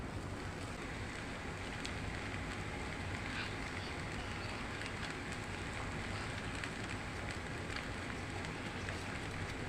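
Steady, faint sizzle of spices frying in a pan while making pasta, a continuous crackling hiss with no voices.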